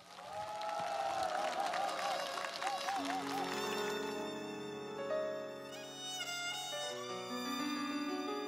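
A studio audience applauds a singer back onto the stage of a televised Korean pop music show. The clapping blends with loud band music and singing, and the music takes over after the first few seconds.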